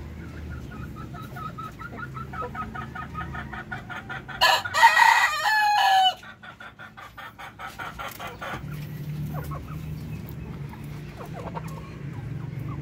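Native Darag chickens on a farm cluck in rapid repeated bursts, with one rooster crowing loudly near the middle. Softer clucking and low background hum continue afterward, with no talk.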